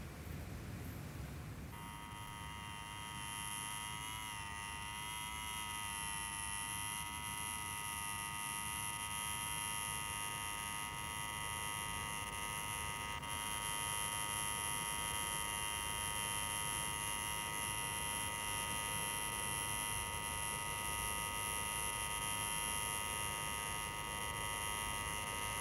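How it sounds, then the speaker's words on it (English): An electric buzzer is held down almost nonstop, giving a loud, steady, harsh electronic drone that starts after a couple of seconds and runs unbroken to the end. "Take your finger off that bleeding buzzer."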